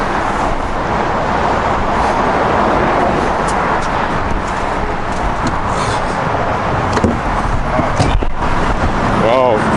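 A 2012 Lamborghini Gallardo Super Trofeo under way, a loud, continuous broadband engine and road roar heard from inside the car, with people talking over it.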